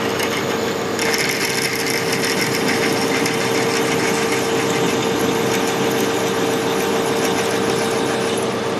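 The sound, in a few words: lathe drilling one size below 3/8 inch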